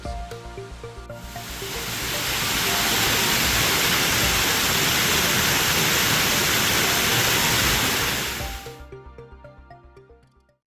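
Dugway Brook running through Lakeview Cemetery, a steady broad rush of flowing water that swells in over the first seconds, holds loud and continuous, then drops away near the end.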